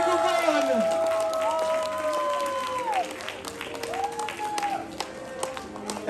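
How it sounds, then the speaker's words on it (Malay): Thunderous applause for a teacher at a national teaching award ceremony, loud crowd clapping under music and voices, with tones rising and falling across the sound. "kita ucapkan tepukan paling gemuruh untuk Cikgu Puan"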